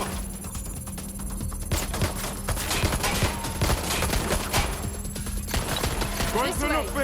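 Rapid bursts of gunfire from the video game Watch Dogs: Legion crackle over a steady electronic hum and game ambience, with dense sharp shots through the middle and a brief lull before more activity near the end.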